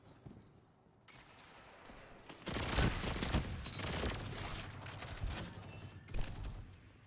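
The Disparity weapon fires rapid bursts in Destiny 2, loud, dense rattling volleys that begin after a couple of seconds and continue steadily, with a final sharp burst near the end.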